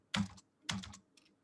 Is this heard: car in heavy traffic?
no